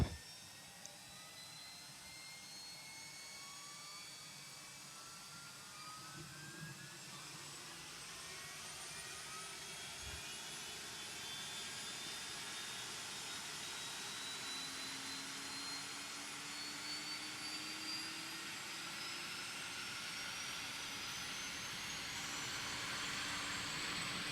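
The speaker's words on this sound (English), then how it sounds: "You should be able to hear the APU start up." The APU of a Toliss Airbus A321 starts up in X-Plane 11 with a faint, steady, rising turbine whine and hiss that builds slowly and holds on alone.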